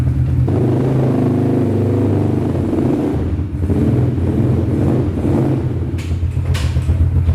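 A quad ATV sports bike engine, started by remote, revs and accelerates steadily, a loud close motor drone with wind buffeting the microphone and a few sharp clicks near the end.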